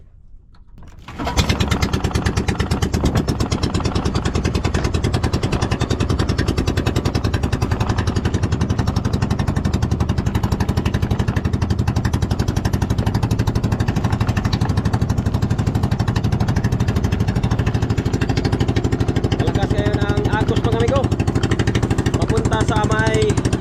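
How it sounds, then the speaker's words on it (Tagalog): A fishing boat engine at sea starts up and settles into a loud, steady running drone with a rough, buzzy mechanical rattle that continues unbroken. "start na tayo ng makina"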